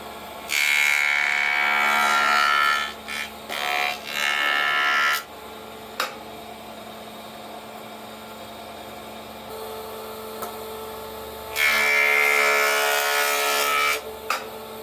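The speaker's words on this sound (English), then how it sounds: "I'm going to try and clean this up again just by running it through the jointer" A 2x4 with glued dowels fed through a woodworking jointer, two loud bursts of whining cutter noise separated by a quieter stretch of scattered knocks and handling sounds.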